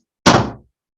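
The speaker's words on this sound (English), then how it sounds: "So let's close the door" A door swung shut in a single short, solid thunk, loud and close, followed by silence.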